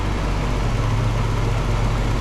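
Steady idle of a 1986 Nissan 300ZX Z31 engine after twelve years unused, a constant low rumble with a faint mid-range hum, close and even throughout with no talk.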